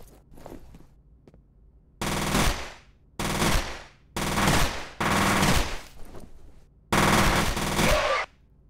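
Bursts of automatic gunfire in the video game FEAR, five loud rapid-fire volleys of one to one and a half seconds each, separated by short gaps with quiet footsteps and ambience between.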